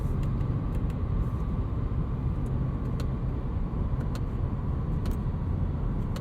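A 2021 Cadillac CT4 V-Series AWD with a 10-speed automatic works down through its gears, a steady loud engine and road rumble filling the cabin, with faint brief shift blips over continuous drone.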